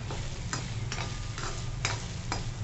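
Chopped spring onion greens sautéing in hot oil, a close crackling sizzle broken by about five regular scraping strokes of a spatula in the pan, without any voices.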